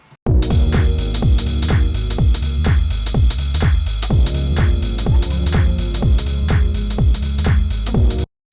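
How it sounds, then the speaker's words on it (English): A lo-fi house beat from a 707 drum machine, low-pass filtered and saturated, pounds out a steady, loud rhythm of kicks and hits that runs continuously for about eight seconds with no voices. "So we've got this 707 in here. It's sounding a bit more lo-fi."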